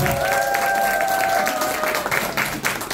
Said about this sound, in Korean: 박수 소리가 너무 작은데요.